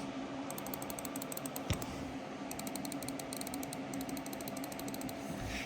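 Main buttons of an HTM Plus 8k mouse clicked repeatedly in quick bursts, small crisp ticking clicks close up against a steady low background hum, with one slightly heavier knock partway through.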